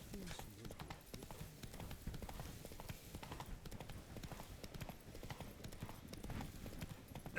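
Roach the horse trotting in The Witcher 3: Blood and Wine, a quiet, steady rhythmic clip-clop of hooves continuing throughout with faint background ambience.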